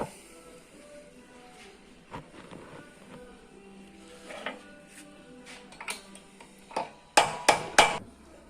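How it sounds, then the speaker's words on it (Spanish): Hammer striking a punch against the cylinder of a hydraulic lift arm on a Nissan Trade 100, scattered metallic taps building into several sharp, loud blows near the end. "ahora le apretamos ahí un puntero y un martillo"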